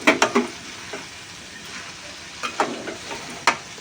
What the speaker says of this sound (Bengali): একটুখানি মিশিয়ে নিই মশলার সাথে, এইভাবে মেশাতে হবে